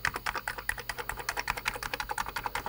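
Keys clatter steadily on a Commodore Plus/4 computer keyboard after cleaning, a fast run of close, crisp clicks with an even rhythm and no voices.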